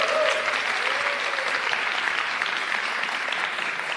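Sustained audience applause fills a conference hall, a dense steady wash of many hands clapping that holds at an even level throughout and eases slightly at the end, with no voices over it.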